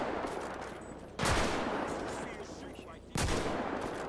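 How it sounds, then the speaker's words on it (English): Distant gunfire from a fight in GTA 5, two sharp bursts of shots separated by a couple of seconds over a constant background hum. "I can hear them shooting."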